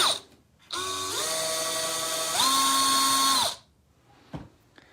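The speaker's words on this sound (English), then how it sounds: "Then we need to drill out that hole right there." A power drill whines steadily for a few seconds while drilling out a rivet head, its pitch stepping up as it bites, then spins down, close and loud.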